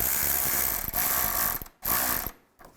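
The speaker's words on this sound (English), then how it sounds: "And tighten down the clamp." A ratchet tightens a hose clamp on the lower radiator hose of a 2002-2009 Chevy Trailblazer, sounding as fast, loud, close clicking bursts broken by short pauses.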